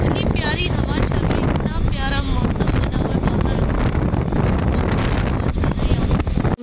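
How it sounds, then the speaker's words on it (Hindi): Wind blows outdoors on a cloudy day, a steady loud rush buffeting the microphone throughout, with voices and other background sounds mixed in. "आज इतनी प्यारी हवा चल रही है"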